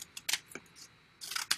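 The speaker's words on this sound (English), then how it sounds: "So I'm just going to take my scissors" Scissors snipping paper strips into small shapes for a craft project, crisp cuts in two short bursts separated by a quiet pause, close and clear with no talking.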